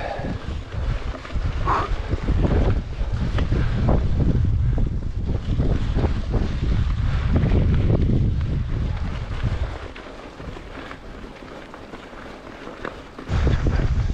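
Loud, gusty headwind buffets the microphone in a continuous roar while cycling uphill in Spain, easing briefly before surging again, rushing past while riding.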